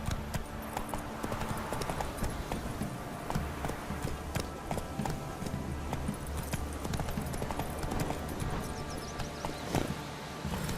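Horse hooves gallop in The Witcher 3 video game, a fast continuous clip-clop of a running horse, loud and close, with faint game ambience beneath and no talking.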